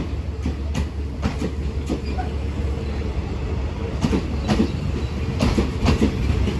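Train pulling into Surat Thani station in Thailand, a late-running service, with steady rumbling and repeated clickety-clack of wheels over rail joints, continuous and fairly loud throughout.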